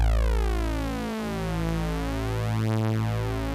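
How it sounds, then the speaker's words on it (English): A held note from the Malström synthesizer's sawtooth 4 setting, four slightly detuned sawtooth oscillators, giving a loud, continuous buzzy tone with slow swirling phasing and beating motion throughout. "this is created because there are 4 oscillators playing sawtooth waves that are just detuned slightly from each other"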